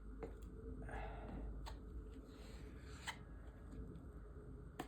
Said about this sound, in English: I'm going to take my squeegee. I'm going to rotate it a couple more times to get it mixed up more.